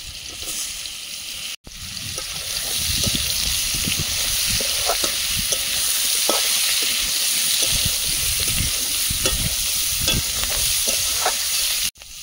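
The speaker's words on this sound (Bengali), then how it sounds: "সবজিটা ভাজা ভাজা হয়ে এসছে, এবারে দেবো ক্যাপসিকাম।" Mixed vegetables fry in a pan with a continuous close sizzle and occasional stirring scrapes as capsicum goes in. The sound briefly cuts out twice.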